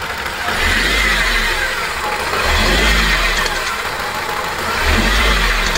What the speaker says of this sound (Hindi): रेस करने के साथ ही भाइयों आप जो इंजन की नॉइस है वो सुनेगा भाइयों, टिक टिक करके नॉइस कुछ आती है